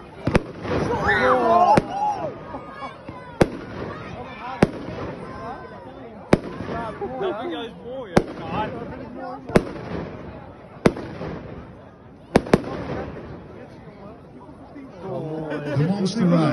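A Vuurwerk Mania Monster Ride consumer fireworks cake fires at a demo show, sharp loud bangs spaced every second or two over a crowd chattering nearby, with whistling effects in between.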